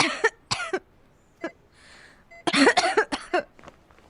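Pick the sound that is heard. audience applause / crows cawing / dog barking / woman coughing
woman coughing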